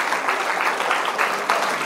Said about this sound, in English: So, with a big applause,